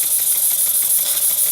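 A Stuart S50 steam mill engine running on modest steam from a Jensen 20G gives a close, continuous hiss with a quick, regular chuffing tick underneath, smooth and unbroken.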